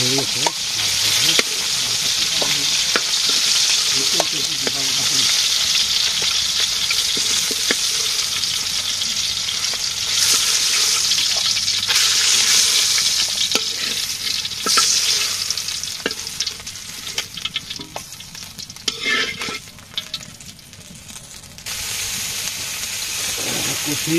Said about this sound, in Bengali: একটু ভেজে নিলাম।